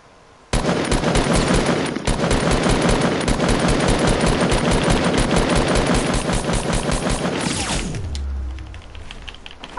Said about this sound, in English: Whoever that is, I'm shooting him down.